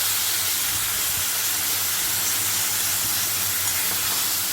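Taro greens hiss and sizzle in hot oil with a dense, even frying roar, steady and close throughout, with faint stirring underneath and no speech.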